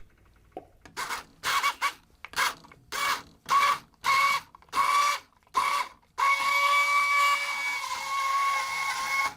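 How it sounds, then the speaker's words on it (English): An immersion blender blending cauliflower soup whirs in a series of short, evenly spaced bursts, then runs continuously with a steady high-pitched motor whine. "I put the blender all the way down in the soup. I start giving it small bursts"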